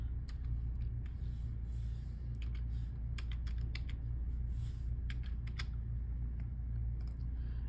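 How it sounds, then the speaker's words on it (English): Someone types on a computer keyboard in irregular runs of quick, light key clicks over a steady low room hum. The typing is close and fairly quiet, with no speech. "let's type in here aminocaproic acid"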